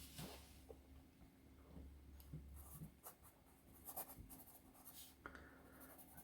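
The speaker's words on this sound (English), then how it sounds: "Has a little bit of a scratch in it, just a bit of feedback, which I tend to like in a pencil." A Staples No. 2 wood pencil with dark graphite scratches across paper in quiet, close strokes, light scribbling bursts with a faint scratchy feedback and brief pauses between marks.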